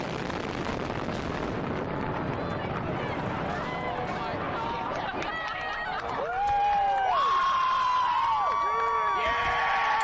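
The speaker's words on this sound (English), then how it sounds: "crowds of people cheer" A dense, roaring crowd cheers and shouts as an old Las Vegas building is demolished, and partway through, sustained whistling or sung tones rise above the din.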